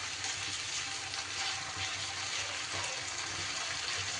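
Ginger, garlic and green chili paste sizzles steadily with onions in a hot pan, a dense continuous frying hiss close up with no talk.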